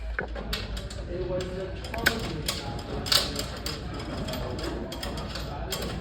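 A bolt is screwed into the side holes of a platform lift ramp, with washers on both sides, for an AmeriGlide Hercules Mini vertical platform lift. Small clicking and ratcheting taps recur close by over a steady background hum, with no talking.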